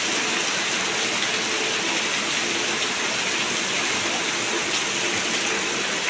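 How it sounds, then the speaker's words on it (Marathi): Heavy unseasonal rain pouring down in Pendkhal in the Konkan, a dense, steady roaring hiss of rainfall with no letup, filling the whole scene. "आता हा पाऊस किती वेळ पडतोय माहीत नाही आहे"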